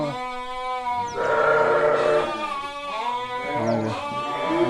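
Hissar sheep from Tajikistan at a livestock market bleat loudly and close by, giving two long wavering bleats with a brief gap between them.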